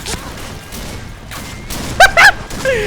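Sniper rifle shots in the video game Point Blank ring out as two sharp, close bursts over a low bed of game noise and muffled background chatter.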